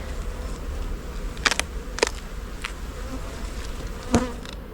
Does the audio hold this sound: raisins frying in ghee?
no